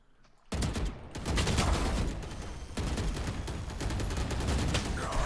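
Dense bursts of gunfire from a Counter-Strike-style competitive shooter match, Vitality versus FURIA, erupting after a brief quiet start and continuing as loud, sustained rapid shots with no talk.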